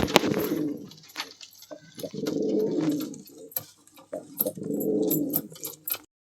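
Pigeons in a home loft coo in three clear, rolling, throaty phrases, each about a second long, close and fairly loud, with brief quiet gaps and small clicks between them.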